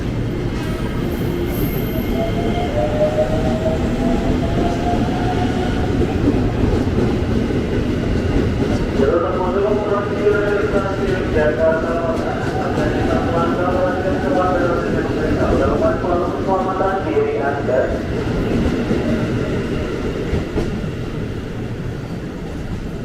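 A 12-car KRL commuter train pulls away from track 3 at Depok Station, a steady loud rumble of rolling cars with rising wheel and motor tones, and a voice talks over it.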